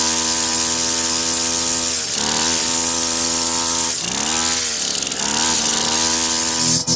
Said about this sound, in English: Solo, just the Weed Eater sound effect, no effect on it, and I'll let you hear what it is.